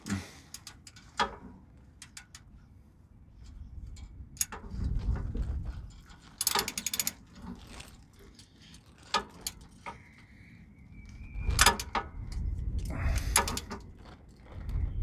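A ratchet tightens a rear differential bolt on a 100 Series Toyota Land Cruiser LX470, heard as quiet bursts of clicking and mechanical clatter separated by pauses, close up with no talking.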